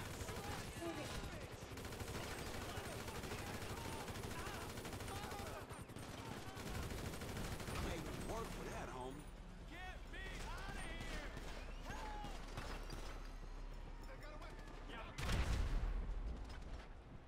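Dense gunfire from a Grand Theft Auto V shootout rattles almost without pause, with bursts over a low rumble, game voices in between and a loud close blast near the end.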